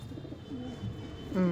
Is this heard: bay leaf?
no